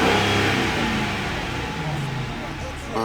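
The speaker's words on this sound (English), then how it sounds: "I'm really gonna push it for you guys so y'all can see how good it accelerates." A car fitted with an OBD2 tuning chip revs hard and accelerates, its engine a loud, close, sustained roar that eases slightly as it pulls away, with a voice speaking over it.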